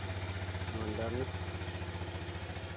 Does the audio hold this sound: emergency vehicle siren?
no